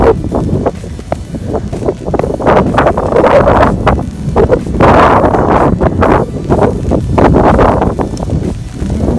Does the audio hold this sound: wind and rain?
yes